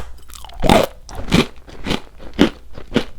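A matcha cookie bitten and chewed up close, with five distinct crisp crunches spaced evenly across about three seconds, each a loud dry burst with no talking between them.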